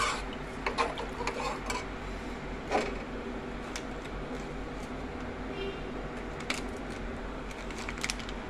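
Spoon stirring food in a cooking pot while preparing an offering meal for a Rath Yatra feast, soft irregular scraping and clinks at close range, steady low kitchen background with no talk.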